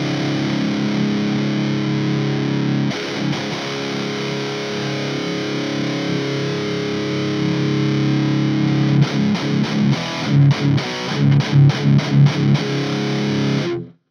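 Distorted electric guitar played through a Lichtlaerm PandorA's Box power amp with its depth control raised, a thick sustained chord wash followed by a run of short, punchy, rhythmic chugs near the end, loud and alone.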